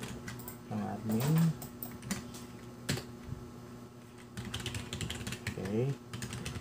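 Password being typed on a computer keyboard while setting up a PROLiNK PRS1241B router as an access point; a few soft clicks and taps sound close by, interleaved with spoken talk.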